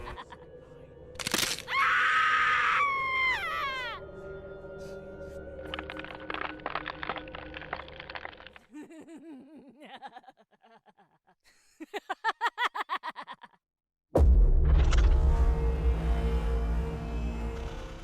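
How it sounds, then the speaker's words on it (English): A Spirit Halloween animatronic: a sharp, shrill scream bursts out near the start, followed by mechanical creaks, a cackling laugh and rattling effects, ending in a loud roaring blast. "she starts out with her evil laugh, and then she bends her neck over"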